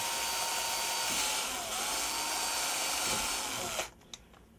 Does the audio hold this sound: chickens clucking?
no